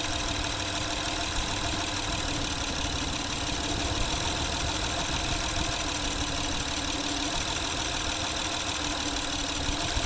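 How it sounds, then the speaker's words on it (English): A 2012 Honda Odyssey engine with a misfire runs steadily at idle, a constant close mechanical drone with a rough, uneven undertone throughout. "Vehicle came in for a misfire condition, 2012 Honda Odyssey."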